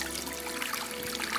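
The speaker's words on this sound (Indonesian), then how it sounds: "Ketika keran air dibuka," Water streams steadily from an opened ablution tap near a gas station restroom, a continuous close trickle over a low background hum, with no one speaking.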